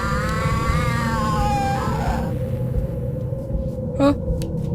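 Cat meowing in the Huggy & Friends video game, a rising-and-falling harmonic cry over a steady low rumble of game ambience, followed by a short sharp call near the end.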